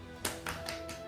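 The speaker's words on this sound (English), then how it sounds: "patting, tapping, knocking." Soft, quick taps of hands patting against the body over the liver and spleen area during qigong, four or five in an even rhythm, close and fairly quiet.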